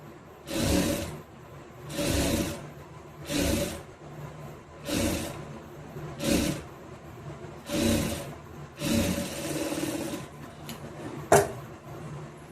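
A sewing machine stitching a saree border onto a blouse back neck runs in repeated short bursts of whirring, about eight runs separated by brief pauses, close and fairly loud.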